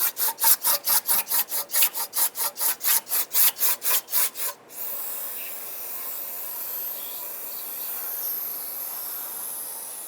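A rag firmly wiping the gasket seating areas of a Mazda CX-9 exhaust manifold, about a dozen quick, even rubbing strokes close up, then a sudden stop into a faint hiss of spray evaporating.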